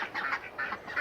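Cayuga and Pekin ducks in a pen give a quick series of nasal quacks and chatter at moderate distance, several calls overlapping within a second.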